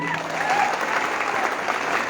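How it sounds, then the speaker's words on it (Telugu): A crowd at a political rally in Sircilla claps loudly and steadily, dense applause filling the space, with faint voices mixed in. "ఇలా నీలి కండువా మెడలు వేసుకున్న తమ్ముళ్ళందరికీ కూడా గట్టిగా చప్పట్లు కొట్టండి."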